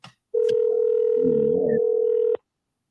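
A telephone call tone, a steady electronic beep held for about two seconds, loud and close, with brief clicks before and after it and no talk over it.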